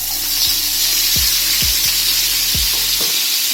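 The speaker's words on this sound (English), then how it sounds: "I'll be frying the onion" Onions fry in hot oil for a gravy, giving a steady loud sizzle with several soft knocks as they are stirred in the pan. No one speaks.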